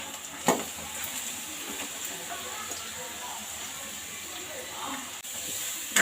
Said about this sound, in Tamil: கொஞ்ச நேரம் அப்படியே எண்ணெயிலே ஃப்ரை பண்ணிடுவோம்